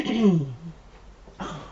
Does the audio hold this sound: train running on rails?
no